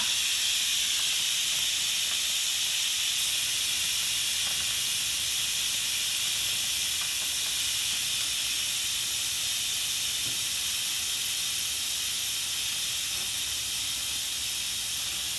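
Steam vents from an Instant Pot pressure cooker as a loud, steady, close hiss that holds unbroken throughout with no talk.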